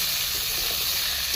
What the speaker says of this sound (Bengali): একসঙ্গে একটু হালকা করে শুকনো ডাঁটাগুলোকে ভেজে নেব